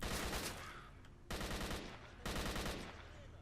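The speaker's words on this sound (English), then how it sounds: "God, this gunfight. This gunfight right here." Automatic gunfire in a firefight in the video game Stalker, loud, dense bursts of rapid shots arriving in three blocks separated by brief pauses, with no talking.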